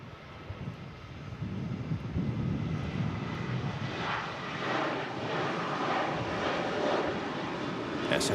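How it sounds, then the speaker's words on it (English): A Ryanair jet airliner on its takeoff roll at Manchester Airport, a broad, steady engine roar that swells and holds at a moderate distance, with faint voices in the background. "Ryanair on the roll."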